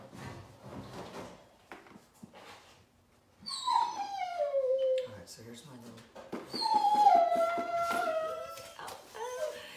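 A puppy whimpers in high, wavering, falling whines, two drawn-out bursts in the second half, close by, with a person talking over and between them.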